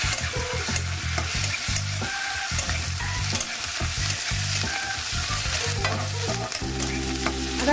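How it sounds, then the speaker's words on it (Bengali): Onions and spring onions fry with ginger garlic paste for a Bengali dry fish chorchori, giving a steady close sizzle under a rhythmic knocking of a spoon stirring against the pan, with no talking. "পেঁয়াজ আর পেঁয়াজ কলি ভাজা ভাজা হওয়ার পর আমি দিয়ে দিচ্ছি একটু বেশি পরিমাণে আদা রসুনের পেস্ট।"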